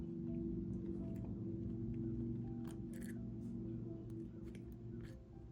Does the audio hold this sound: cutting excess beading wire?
yes